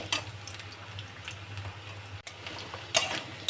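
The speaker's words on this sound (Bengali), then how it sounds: "আলুটাই ভাজতে থাকবে" Potato pieces frying in hot oil in a pan, a quiet steady sizzle broken by a few sharp scraping stirs and clinks of a utensil against the pan.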